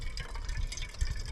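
Water is poured into a pouch of dehydrated taco meat at a backpacking camp in Sequoia National Park, giving a short, soft gurgling fill close by.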